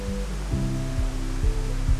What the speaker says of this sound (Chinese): 这是我们水的源头这样的瀑布掉下来